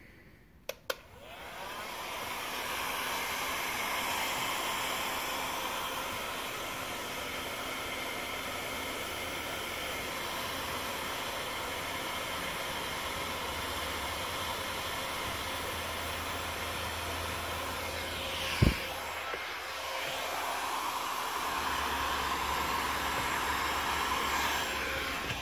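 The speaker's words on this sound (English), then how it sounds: "heat gun with a deflector shield on the end" A heat gun fitted with a deflector shield on its nozzle, hose-clamped in place, blows hot air in a steady, loud broadband hiss. It runs continuously and close by, with one brief click partway through.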